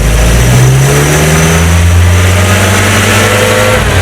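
A 1968 Commer 2500 van engine with a carburetor or ignition fault revs slowly and steadily, a loud, close, continuous drone with a faint rising tone and no speech.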